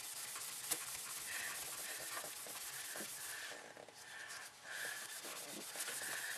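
A surface painted with Mr Hobby metal colour is polished by steady hand rubbing, producing continuous close, hissy scuffing strokes with a brief pause near the middle.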